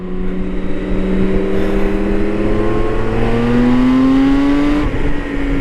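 A BMW K 1600 GTL touring motorcycle engine roars loudly and continuously, its pitch climbing steadily as it revs up, with a throaty rumble throughout.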